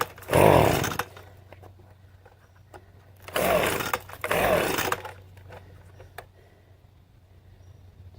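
Gas leaf blower running after a carburetor change, with short loud bursts of engine roar separated by a quiet, rough idle and scattered clicks and knocks, close by.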